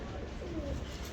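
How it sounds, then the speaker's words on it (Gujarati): A pigeon coos softly in a brief low call, faint beneath steady background noise. "કબૂતર છે"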